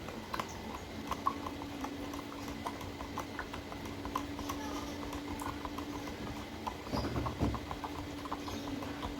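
CuSO4 powder being stirred into mineral water in a glass: a quick series of light clinking taps from the spoon against the glass over a quiet background, with a slightly louder knock near the end.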